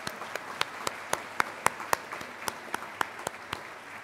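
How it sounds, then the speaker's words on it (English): Sparse applause at a volunteer awards breakfast in a school setting, a handful of distinct individual claps in an irregular rhythm, fairly quiet over room ambience. "Please give them a round of applause too."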